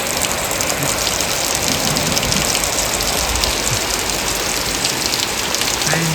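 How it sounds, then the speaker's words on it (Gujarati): A steady hiss of light rain falling on surfaces in a village near Botad, continuous and even throughout, with a faint low rumble underneath. "ધીમી ધાર આવ્યો વરસાદ"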